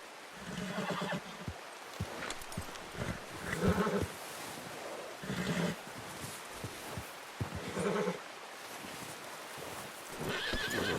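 Horse in the video game Red Dead Redemption 2, neighing and whinnying in several loud bursts with clip-clop hooves in between, against a steady ambient background.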